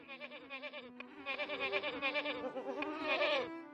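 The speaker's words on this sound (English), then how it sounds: "We can, however, buy goats, apparently." Several goats in the farming strategy game Hearthlands bleat over and over, their overlapping wavering cries rising and falling close by, denser and louder toward the end.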